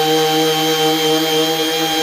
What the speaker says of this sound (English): Hit this with the DA, scuff it up.